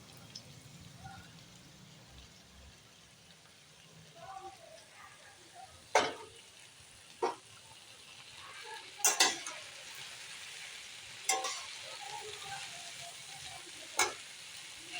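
Drumstick flowers frying in a pan for a Bengali chorchori, a steady low sizzle with sharp clinks and scrapes of stirring every second or two.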